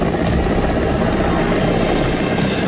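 An Indian Air Force helicopter hovers low over a dam in Bilaspur, Chhattisgarh, during a rescue, its dense rotor and engine roar steady, loud and continuous throughout, with no voices.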